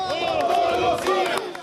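Supporters of an assemblywoman cheer and shout together outside a court tribunal, a loud, close burst of overlapping voices in a brief sustained roar.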